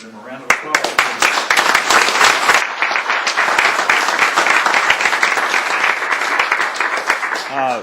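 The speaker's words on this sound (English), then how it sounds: "Give them a round of applause." Applause from the audience at a tribal council meeting, honoring newly introduced young representatives from several counties; dense, steady clapping fills the room for about seven seconds, loud and close, then tapers off at the end.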